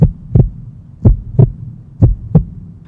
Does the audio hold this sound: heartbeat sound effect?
yes